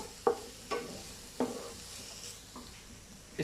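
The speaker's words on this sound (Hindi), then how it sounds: "इसको जो है हम तकरीबन 1 मिनट तक इस तरह से फ्राई करेंगे, पकाएंगे" Vegetables and chicken taco filling with a little soy sauce stir-fried in a pan, a steady sizzle broken by four sharp scrapes and knocks of the spatula against the pan, close and moderately loud with no talking.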